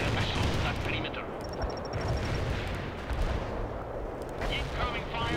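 Dense, continuous gunfire and heavy artillery blasts from the real-time strategy game World in Conflict, during an assault on insurgents, roar loudly and without pause throughout.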